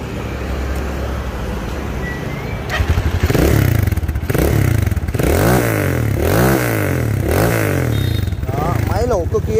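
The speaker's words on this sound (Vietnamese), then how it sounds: "bây giờ mình sẽ nổ máy cho anh em mình tham khảo này." A used motorcycle for sale is started, and its engine settles into a running idle, then gets several throttle blips that rise and fall in pitch, loud and close. Someone talks over parts of it.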